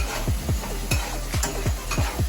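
Masala sizzling and frying in sunflower (white) oil while being stirred, with steady crackling hiss and repeated spoon scrapes every half second or so, close and moderately loud.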